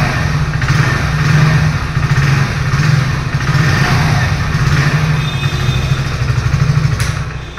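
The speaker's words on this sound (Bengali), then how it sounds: "প্রথমে আমি একটা এক্সস্ট নোটটা শুনে দেবো, আর সাউন্ডটা আগের মতো সেমই আছে" Exhaust note of a 2025 Hero HF Deluxe motorcycle, a steady idling putter with a low pulsing drone that rises and falls slightly throughout.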